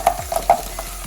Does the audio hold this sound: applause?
no